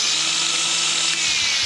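A Makita angle grinder with its switch relocated runs at a steady high-pitched whine, loud and close, with no other sounds over it.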